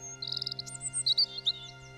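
A myna bird in an animated Hindi moral story gives a run of quick, high chirps and tweets, fluttering at first, then a few separate bright calls, clear and alone over a faint low hum.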